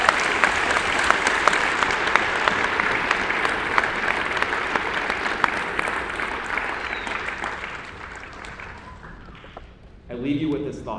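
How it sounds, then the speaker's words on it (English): A school assembly audience at a Veterans Day gathering applauds loudly for veterans' families, sustained clapping that gradually fades before a speaker's voice resumes at the end. "clap for all of these families"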